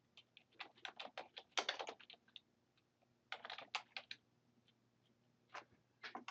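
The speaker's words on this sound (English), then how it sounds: "So I'm going to type in a local area here." Keys clatter on a computer keyboard in quick bursts of light clicks, with short pauses between runs of typing, close and quiet in a still room.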